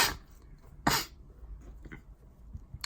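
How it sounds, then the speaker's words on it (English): A man with a cold sniffles, two short sharp nasal sniffs at close range with quieter breathy noises between them. "sorry again for the sniffles"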